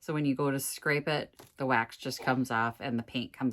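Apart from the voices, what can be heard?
None of the usual background noises is heard.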